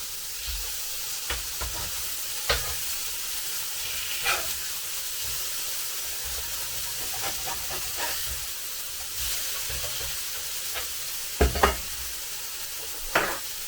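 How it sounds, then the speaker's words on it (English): Small burger patties frying on a hot surface, giving a steady, even sizzle throughout. A few short scraping knocks stand out as the patties are flipped. "Time to flip the burgers."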